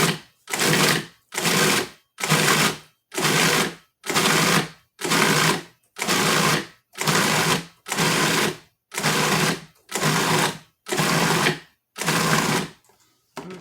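A food processor pulses a raw chicken meat mixture in about a dozen short, loud, evenly spaced motor bursts. Each burst is separated by a brief silence.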